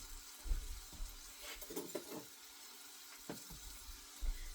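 Green tomatoes and squash frying in a pan, a low sizzle broken by irregular scraping and knocking of a spoon stirring, close by and with no voices.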